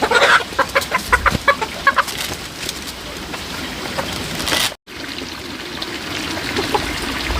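Chickens cluck in a rapid burst of short, close calls, then the clucking thins out into scattered faint calls beneath a soft trickling water sound and outdoor ambience.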